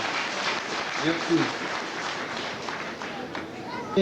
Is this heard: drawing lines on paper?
no